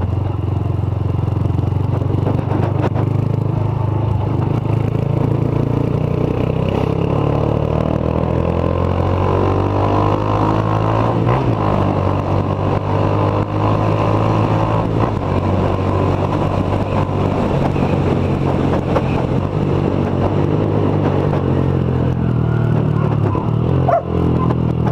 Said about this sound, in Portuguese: Semana aí tinha voltado o escapamento original da moto.